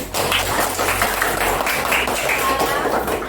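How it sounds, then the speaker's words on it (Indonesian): A school class applauding in a religion lesson, with a dense patter of clapping hands mixed with voices from the room, lasting for several seconds. "Tepuk tangan sekali lagi"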